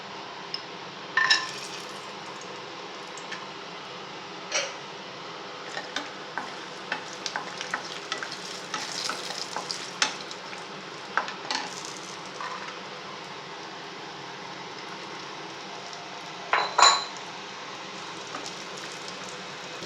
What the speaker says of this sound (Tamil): இப்போ நம்ம முந்திரி திராட்சையை வறுத்துக்குருவோம்